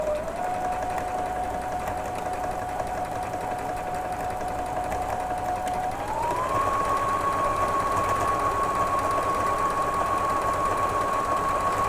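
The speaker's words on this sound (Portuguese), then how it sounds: "já vou costurando assim, ó. Fazendo as curvinhas, ó, bem devagarzinho." A sewing machine runs steadily stitching knit fabric scraps, a continuous close motor whine and needle chatter that shifts up in pitch partway through as the speed increases, with no voices.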